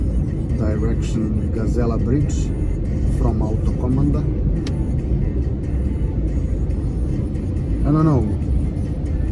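Road traffic on a rainy Saturday afternoon in Belgrade, around Autokomanda toward Gazela Bridge: a continuous loud rumble of cars and engines with a constant wet road roar, while someone talks over it throughout.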